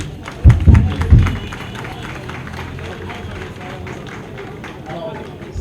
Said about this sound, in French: vos applaudissements viennent dire clairement que non seulement vous avez compris, mais que vous adhérez